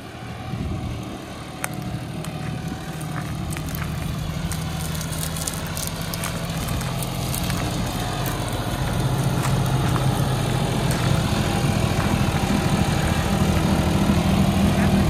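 A vehicle engine labors steadily uphill, a loud, close, continuous drone that builds slightly in intensity toward the end.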